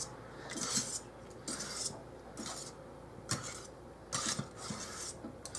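Quiche filling mixed in a bowl, a steady series of soft scraping and clinking strokes of a utensil against the bowl, close and fairly quiet.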